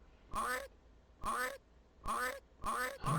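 Ghost chickens in the Amiga game The Secret of Monkey Island give four evenly spaced, squawking quack-like calls, each about a third of a second, loud and close with quiet gaps between.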